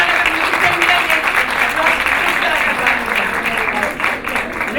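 Sustained audience applause rings out for recipients at an Excellency Award 2024 ceremony, a steady dense wash of clapping with some voices mixed in throughout.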